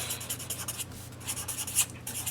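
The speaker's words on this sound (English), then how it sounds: "So then I would just write" Pen handwriting in a paper workbook, close scratchy strokes in quick short bursts, alone and fairly quiet.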